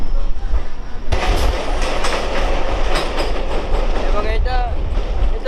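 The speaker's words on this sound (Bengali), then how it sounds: "ট্রেনটা একদমই ফাঁকা এটা হচ্ছে গাজিয়াবাদি ট্রেন" An empty Ghaziabad-bound train in Uttar Pradesh, India, rumbles steadily along the rails with rhythmic clattering and rushing noise, loud and close, with brief squealing near the end.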